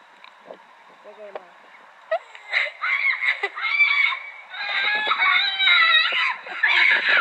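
A rooster crows in several strained, honking calls, loud and close, with people talking nearby between the calls.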